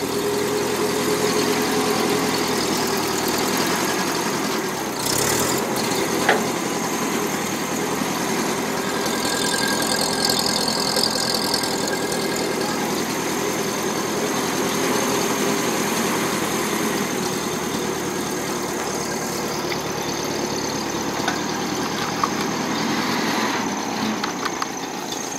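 A Ferguson TE20 tractor engine runs steadily for the whole stretch, a close, loud, even chugging drone that barely changes, with no talk over it.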